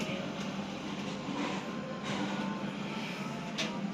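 A steady, low rumble inside a moving Sawunggalih intercity passenger train in Indonesia, with faint rhythmic clicks and rattles over the tracks and no talking.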